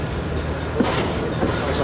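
A train backs slowly over the tracks near a switch, giving a low steady rumble with a few soft clanks and a brief squeak, fairly faint and close.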